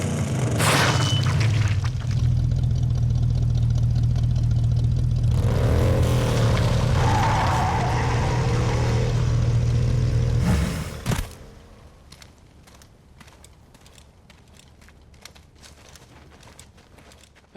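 Vehicle engine in the video game Brütal Legend, engine on fire, a loud heavy rumbling roar with booming crashes for about ten seconds before it drops away to quiet scattered clicks, with no talking.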